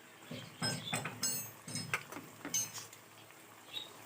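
Ground spices such as cumin, coriander, chilli and turmeric are stirred and mixed in a cooking pot for mutton biryani. Faint, irregular scrapes and light metallic clinks of a spoon against the pot come in short bursts.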